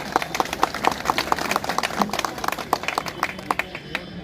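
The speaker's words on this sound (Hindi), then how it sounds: "जरा फतेहपुर वाली ताली बजा करके स्वागत कर दो इनका" An audience in Fatehpur claps to welcome guests at a public event, giving a brisk, steady patter of hand claps of moderate loudness over a murmuring background.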